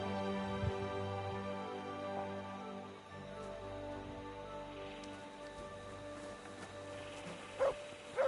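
A dog in Kingdom Come: Deliverance II gives two short barks near the end, fairly faint and set back beneath a steady bed of rain and ambient outdoor noise.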